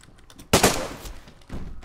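Gunfire in the DayZ Standalone 1.13 survival video game: a loud, sharp shot blast followed by a decaying tail, then a second, softer report about a second later.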